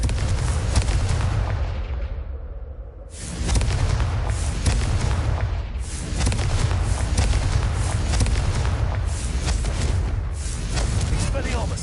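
Confringo fire spell blasts from Hogwarts Legacy, loud broadband booms with a sharp burst near three seconds and repeated explosive bursts throughout, over a constant rumbling game soundscape, with a voice speaking.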